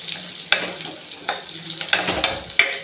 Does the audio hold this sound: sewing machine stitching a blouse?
no